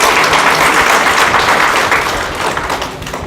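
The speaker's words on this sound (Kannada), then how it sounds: "ಜೋರಾದ ಚಪ್ಪಾಳೆ." A large audience at a book release function in Harakood, Kalaburagi claps loudly, a thick continuous wash of applause close and full that eases slightly as it goes on.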